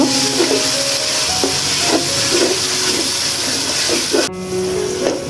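Chicken biryani masala with sour yogurt sautéing in a pan, a steady loud sizzle and hiss throughout with small bubbling pops, cutting briefly near the end.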